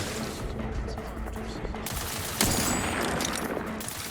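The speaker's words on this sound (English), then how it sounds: "You guys shooting it now." Gunfire in the video game The Outer Worlds 2, a dense fusillade of shots under a steady mix of game noise and low voices, with a sharper, louder burst of fire about midway through.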